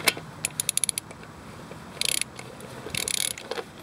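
A socket spinning loosely on a rounded 19mm lug nut, giving bursts of quick metallic ratcheting clicks in short runs, separated by pauses, fairly close and moderately loud with no talking.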